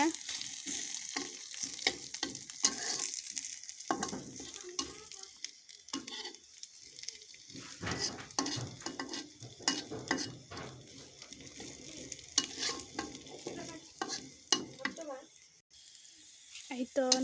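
Khichuri with bay leaf cooking in a pot and stirred, spoon scrapes and clinks over a soft sizzle, with pauses and a voice talking intermittently.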